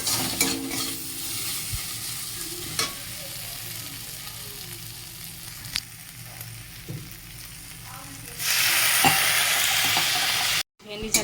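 Oil heats in a pan ahead of a prawn curry, giving a steady close hiss with a few sharp ticks and clinks. The sizzle swells louder near the end, then cuts off briefly.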